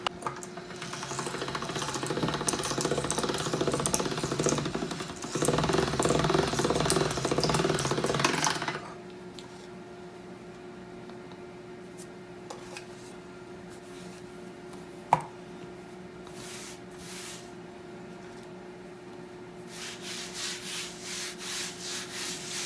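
Fresh lasagne dough fed through a pasta machine, a steady loud whirring, rubbing roll for about nine seconds that then stops, leaving a quiet hum with a sharp click and faint scraping handling noises later.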